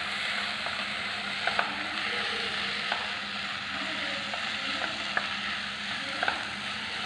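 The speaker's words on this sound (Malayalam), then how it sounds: "നല്ലതുപോലെ വഴക്കിയെടുക്കാം." Ground spices, turmeric, chili powder and pepper powder, sautéing in a pan, a steady soft sizzle with occasional light clicks and scrapes of stirring, no talking.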